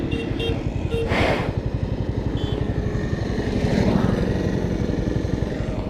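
A TVS Apache N160 motorcycle engine running steadily while riding on the road, with a continuous low pulsing rumble close up and a brief revving swell around the middle.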